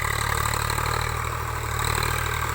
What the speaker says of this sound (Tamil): டிராக்டர் நம்ம பக்கத்தில் வந்துடுச்சு.